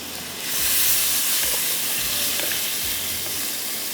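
Gosht (meat) goes into a hot pan and sizzles in a steady broadband hiss, with a few soft knocks and stirring sounds underneath. No one speaks.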